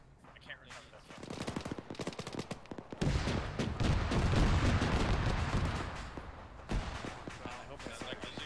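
Sustained automatic gunfire and scattered single shots crackle from a ridge during an Arma 3 infantry battle, the dense bursts swelling loud through the middle and easing toward the end.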